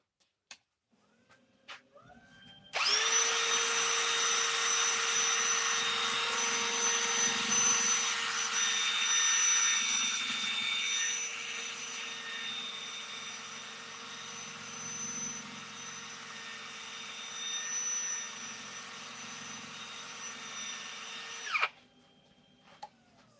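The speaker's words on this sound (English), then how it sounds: "This is sanding to 120 first." A power sander works a wood turning with 120 grit paper, a steady loud whirring drone that starts abruptly, holds for about twenty seconds with slight swells, then cuts off.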